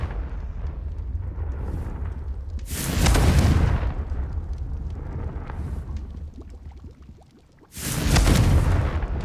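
Confringo spell blasts in Hogwarts Legacy go off as two loud, roaring explosions a few seconds apart, each swelling into a broad rumble over a steady low background, with no talking.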